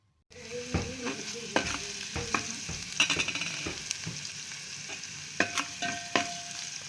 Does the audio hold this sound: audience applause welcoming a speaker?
no